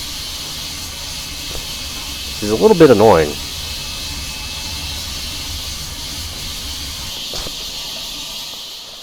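The safety valve on a Frisco T-54 4-8-2 Mountain steam locomotive in Train Simulator Classic hisses steadily and continuously, a broad airy rush that stays on throughout while someone speaks briefly over it.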